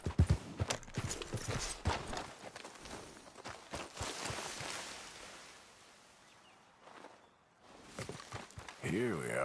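Horse hooves clip-clop at a trot in the Red Dead Redemption 2 video game, a close rhythmic run of hoofbeats that fades midway, then picks up again at the end.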